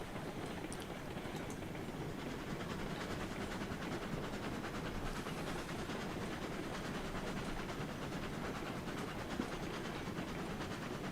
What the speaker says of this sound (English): number 1 pulling into Southern Coal Mine